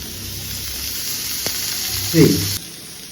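Beef steak searing in a pan over high flame, a steady sizzle with a brief louder flare of spatter near the end.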